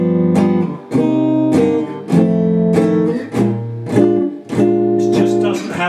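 Blues piano played without a rhythmic squeezing punch in the left hand: a series of full, sustained chords struck roughly every half second to second, loud and close, with no voices.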